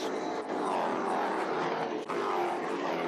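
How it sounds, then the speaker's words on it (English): Race speed trucks with 350 cubic inch Vortec Chevrolet engines roaring past at El Cajon Speedway, a loud continuous engine drone sweeping by, with voices faintly mixed in. "you can hear the thunder for those Chevrolet motors underneath the hoods of these"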